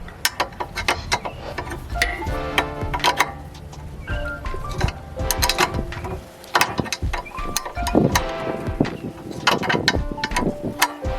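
Wrench ratcheting on the rear sway bar end link of a 2006 Acura MDX, a series of close, crisp ratchet clicks in irregular bursts with brief pauses, no talk.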